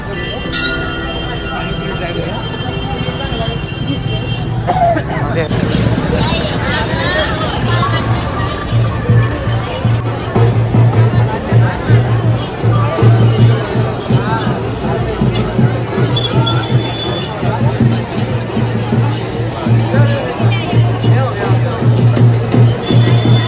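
A large crowd mills around a busy tourist spot in Maharashtra: loud, continuous babble of many voices over a low rumble, with a person talking nearby.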